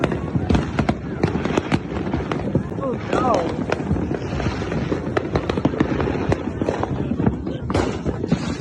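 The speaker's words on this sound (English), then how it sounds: "I got the best firework over here." Fireworks and firecrackers crack and pop repeatedly through a 4th of July celebration set off in a small neighborhood front yard, with dense overlapping bursts near and far and a whistling rocket; people talk and shout over the noise.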